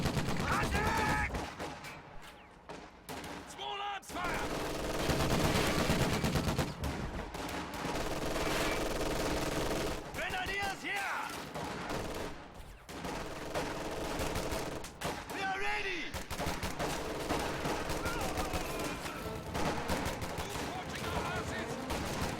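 Rifle and machine-gun fire in a real-time strategy battle, with grenadiers engaging: repeated bursts of gunfire and explosions in overlapping waves, loud and continuous, under game effects and a faint commentary voice.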